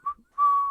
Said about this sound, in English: he's whistling the 1812 overture